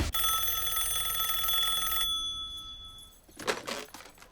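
An indoor telephone rings with a steady electronic trill for about two seconds, then cuts off, followed by brief rustling and faint movement.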